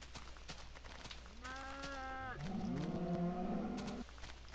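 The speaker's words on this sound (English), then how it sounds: "I'm gonna use my wheat to attract this cow" A cow in the video game Minecraft gives two drawn-out moos, one after the other, loud and close against quiet game background sounds.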